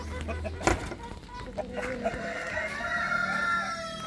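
A black laying hen clucks close by in a farmyard, giving short calls and a brief crow-like cry among other fowl, while someone talks.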